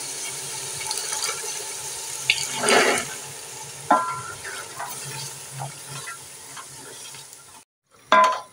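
Black-eyed peas tip into frying korma masala in a pan with a steady sizzle, broken by a few scraping stirs and clinks of a spoon before a brief pause and a final clatter.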